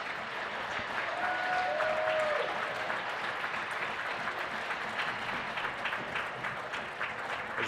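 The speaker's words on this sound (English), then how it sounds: "Fans, let's unite in one last round of applause for the class of" Sustained applause from a large crowd fills a high school hockey arena, steady and dense throughout, with a faint whistle-like tone briefly rising above it.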